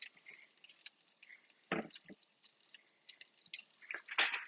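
Lentils being stirred in a pot, soft wet squelches and scraping drips, quiet and close, with a few sharper clinks scattered through.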